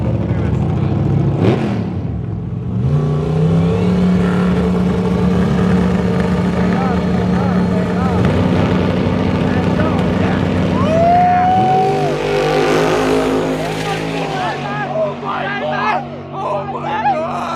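A Pontiac muscle car revs and roars down a drag strip, its engine note climbing through gear changes loud and close, with spectators talking and cheering over the noise.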